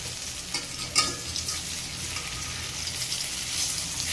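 Bottle gourd leaf fritters frying in a pan, a steady close sizzle with soft crackles and a brief clatter as a fritter is turned, no talking.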